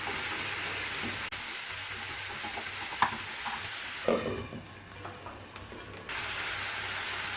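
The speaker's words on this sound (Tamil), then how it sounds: "நல்லா எண்ணெய் பிரிஞ்சு வர்ற அளவு வதக்கணும்." Onion-tomato masala sautéing in oil for a chickpea masala gravy, giving a close, steady sizzle with occasional stirring scrapes and taps of the spoon and no talk.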